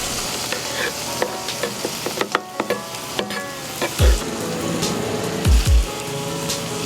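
Steelhead trout frying on a Hunsaker griddle top over a Weber kettle, with lemon juice squeezed across it, making a steady close sizzle, with occasional spatula scrapes and taps and a few low thumps.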